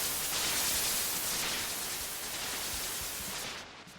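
Broadband white-noise hiss from an Ableton effects chain built for breakbeat music, a loud, steady static wash that fades slightly near the end, with no voices.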